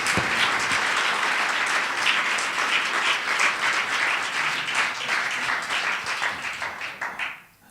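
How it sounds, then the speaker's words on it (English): Audience applause fills the hall at an evening lecture and musical performance, a loud, sustained wash of many hands clapping that carries on evenly before cutting off abruptly. "Je vous demande s'il vous plaît de les applaudir"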